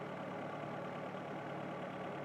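A 1997 Volkswagen Jetta with a 2.0 engine, being fixed for overheating, idles in a workshop setting, a quiet, steady low hum and drone with no revving or talk.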